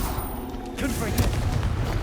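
A fiery blast from the Confringo spell in Hogwarts Legacy booms and crackles in a quick burst during a dragon battle, a short explosive rumble under a voice.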